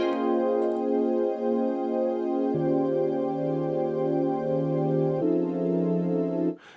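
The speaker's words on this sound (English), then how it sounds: "It sounds a little bit like an organ." Sustained organ-like synthesizer chords hold and shift twice, smooth and steady, then cut off abruptly at the end.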